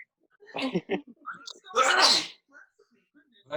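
A single sharp, loud sneeze bursts out close by, surrounded by brief bits of quiet talk.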